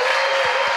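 A studio audience at a French talk show applauds guests with a dense, steady wash of clapping, loud and continuous for under a second.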